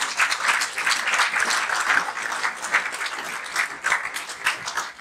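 A church congregation applauds, producing steady, dense clapping from a large crowd that swells and dips in waves for several seconds.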